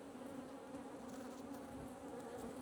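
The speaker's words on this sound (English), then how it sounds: "The bees here are not exactly, oh, sorry bees, not exactly peaceful right now." Honey bees buzz steadily and densely around a hive, a continuous close drone with no pauses or other sounds.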